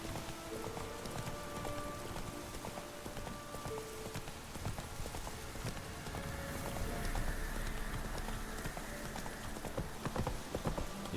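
Hooves of the horse Roach gallop in The Witcher 3, a steady run of clip-clop beats over an ambient game background, with no voices.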